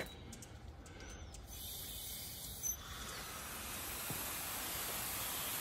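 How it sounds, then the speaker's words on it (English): A Thompson full-circle brass lawn sprinkler sprays water outdoors, a steady, faint hissing spray that grows slightly fuller partway through and carries on without talk. "That thing put out quite a spray."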